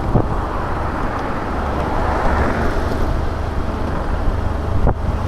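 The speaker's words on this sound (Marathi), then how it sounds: "त्या घाटामध्ये ना गाड्यांची वर्दळ सुद्धा जास्त असते" Steady roadway noise from vehicles on the Khed ghat road on the Nashik–Pune route, a continuous close rumble with wind buffeting the microphone and no voices.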